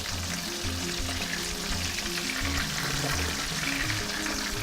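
Turmeric fish sizzles steadily in a hot frying pan, a dense continuous crackle of oil holding at an even level from start to finish with no voices.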